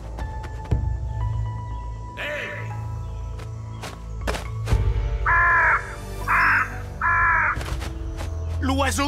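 A bird calls in an animated prehistoric adventure cartoon, letting out three harsh, crow-like caws in quick succession over a busy background of footsteps and ambient hum.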